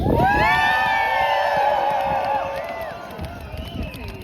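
A crowd at a Women's Day democracy rally cheers loudly, a burst of whoops and high shouting voices that swells at the start and gradually fades into scattered yells.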